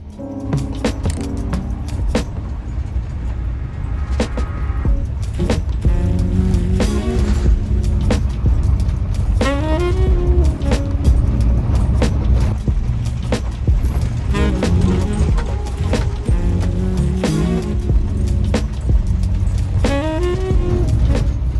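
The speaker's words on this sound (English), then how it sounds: "Okay, this is a bumpy ride in." A Winnebago Travato 59G camper van rolls down a bumpy dirt road into Halfway Flat Campground, with a steady low engine and road rumble, interior rattles and jangling, and faint voices or music tones drifting over the top.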